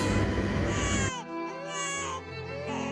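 A baby cries in loud, drawn-out wails that rise and fall. The first second is muffled under a dense wash of noise, then the cries come through clearer and continue to the end.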